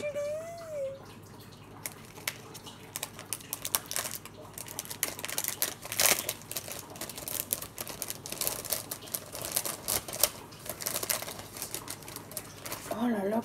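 Gift wrapping paper is unwrapped, giving continuous, close crackling and crinkling with sharp crisp spikes. A brief voice is heard at the start and the end.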